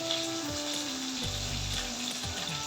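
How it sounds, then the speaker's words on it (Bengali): Cauliflower and beans frying in hot oil with curry leaves and dried chillies for semolina upma, giving a dense, continuous close sizzle with a low background hum. "তেলটা হয়ে গেছে এবার আমরা সবজিগুলো ভাজবো"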